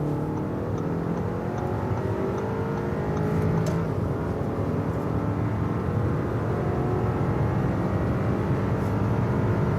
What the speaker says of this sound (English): And we can also accelerate on the motorway and also overtake this truck